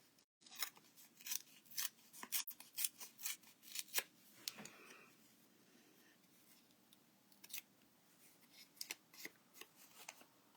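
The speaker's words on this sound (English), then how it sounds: "let me tear the final piece" Paper being torn by hand while making a two-level gatefold card, heard as a run of crisp, close rips and crackles in quick bursts, then quieter handling and a few more scattered tears.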